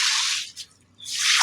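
A broom sweeps standing water across a rooftop garden floor in two close, wet swishes with a short gap between them.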